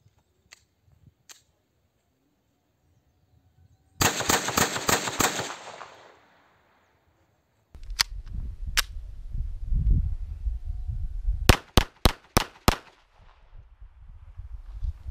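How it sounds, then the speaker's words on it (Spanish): Zoraki M906-B blank pistol firing a fast burst of sharp cracks, then after a gap a few more separate loud reports, with metallic clatter and handling noise between them, close up. "Esta vez vamos a disparar 5 cartuchos de forma rápida."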